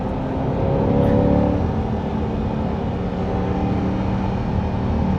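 A Corvette E-Ray accelerating hard on a canyon road, a loud, steady engine roar with a rising whine heard from inside the car, continuous throughout.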